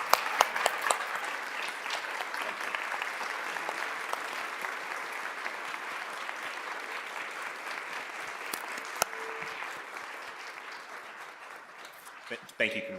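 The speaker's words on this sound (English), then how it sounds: "can we give all of them a standing round of applause?" A city council chamber audience gives a standing round of applause, sustained even clapping for about twelve seconds that gradually thins near the end, with faint voices underneath.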